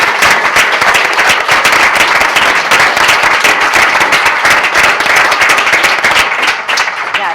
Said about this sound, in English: ask for applause for the panelists